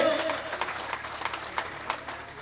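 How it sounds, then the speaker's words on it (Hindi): A crowd at a political rally for a chairman candidate in Aslgarh claps loosely, faint scattered applause with a few sharper claps standing out, under a distant voice. "असलगढ़ की जोरदार तालियां बिल्लू सोनी जी की तरफ से।"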